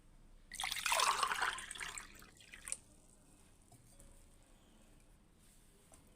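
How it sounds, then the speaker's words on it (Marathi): Water pours into rice batter for ghavane, a close, soft splashing pour lasting about two seconds, then fading to faint trickles and drips in a quiet kitchen. "आता आपल्याला पाणी घ्यायचं आहे"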